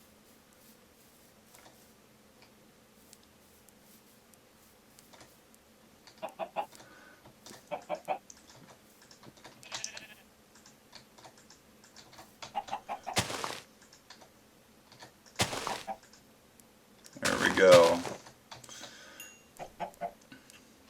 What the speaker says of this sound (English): Let's see if there is another chicken around that I can mate this one with.